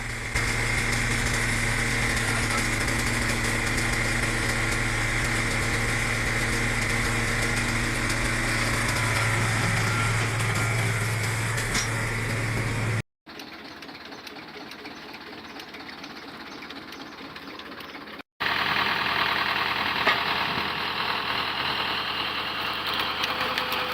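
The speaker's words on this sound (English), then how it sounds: "On an open plot near the woods, the cone log splitter mounted to a tractor is in steady operation." A tractor-mounted, PTO-driven cone log splitter runs on an open plot near woods. It gives a continuous droning engine hum with a steady mechanical whine, briefly cut off twice before resuming.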